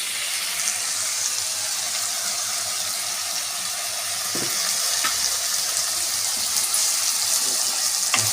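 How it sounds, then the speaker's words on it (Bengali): Onion paste fries in hot oil in a pan for a pomfret curry, giving a loud, steady, close sizzle with a few faint stirring scrapes and no talking. "এবার আমি পেঁয়াজ বাটাটা দিয়ে দেব।"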